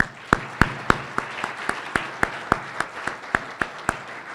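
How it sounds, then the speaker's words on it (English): Rhythmic clapping at an awards gala honoring award recipients, sharp regular claps about three or four per second over a softer background patter of other hands, fairly close and steady. "One last round of applause for all the awardees"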